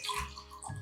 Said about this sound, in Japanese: ちょっとご褒美のワインを補給します